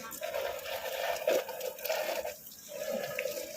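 A pet lovebird gets a bath, with continuous close water splashing and running water that rises and dips in bursts and briefly quiets near the end.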